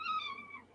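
A cat gives a single drawn-out meow that falls in pitch, fairly faint and close, lasting under a second with no talking over it.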